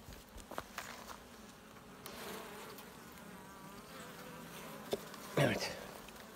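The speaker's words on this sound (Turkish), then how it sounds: "Evet, arımız güzel dalak atmış." Honey bees buzz around an open hive in a chestnut area, a faint, steady hum with a few close flybys and small clicks, and one louder buzzing pass near the end.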